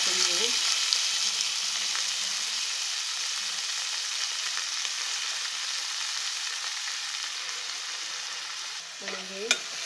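Banana flower vegetable fries in a pan with homemade Malvani masala and turmeric, giving a loud, continuous close sizzle with occasional scrapes of stirring.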